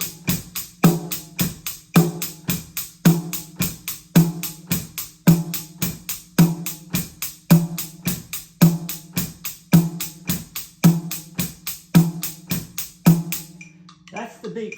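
A drum kit plays the beat for a song at about 108 tempo, a steady repeating pattern of crisp hits and regular snare accents running for around fourteen seconds before ending.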